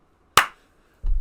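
A single sharp hand clap rings out nearby, followed by a brief low thump.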